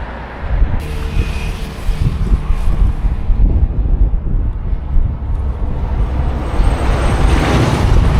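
Strong wind buffets a cyclist on a mountain road in the Pamir in remote China, a loud, continuous low rumble of gusts that swells and eases with no speech.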